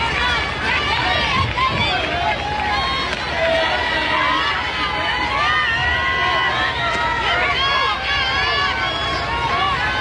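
A packed softball stadium crowd at an Oklahoma vs Texas Women's College World Series game roars and chatters in a dense, continuous wash of cheering and babble throughout.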